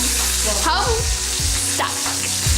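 Bacon sizzling in a pan at a sleepover sandwich session, a loud, constant close frying hiss with faint shifting sounds over it.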